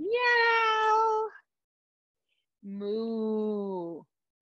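A person's voice imitates a cat's meow twice during a children's yoga class, giving two long, clear meows separated by a silent pause.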